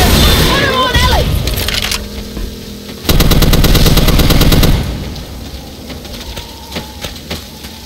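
Rapid automatic gunfire with fire bullets in a modded Mortal Kombat costume-skin battle, Baraka versus a skeleton army: a loud, dense burst of shots lasting about two seconds, followed by scattered cracks, impacts and engine-like rumble.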